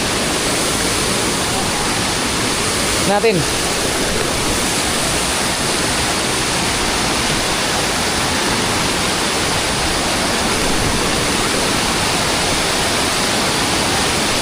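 A waterfall roars as a steady, loud, broadband rush of falling water, constant and close for the whole stretch, with one short spoken word almost lost beneath it.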